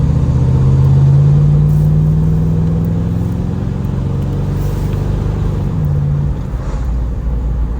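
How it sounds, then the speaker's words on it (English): A 1968 Pontiac LeMans GTO clone with power steering pulling down the road, its loud, deep engine rumbling from inside the car as it rises in pitch, drops and settles while working through the gears. "Get it down the road here and up through the gears a little bit."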